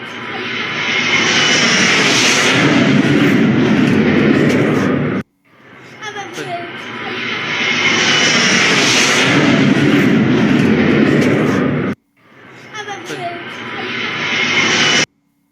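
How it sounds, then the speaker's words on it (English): Pakistani Air Force fighter jets flying at Swat Air Base, a loud roaring engine rush in three long bursts separated by abrupt cuts, with a voice talking underneath. "the Pakistani Air Force on high alert. They're flying their fighter jets"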